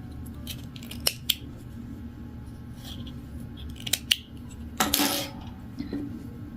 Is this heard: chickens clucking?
no